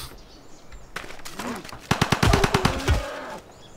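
Video game gunfire from military units in Civilization V: a rapid burst of sharp, closely spaced shots follows a rising whoosh, loud and near, with a faint background bed and no speech.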